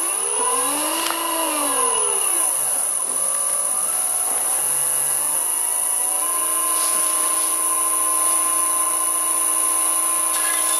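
A loud electric drill whines and bores steadily with a 19.5mm reduced-shank Irwin bit at about 250 RPM, its motor pitch dipping and rising as the bit bites, then holding a constant high drone.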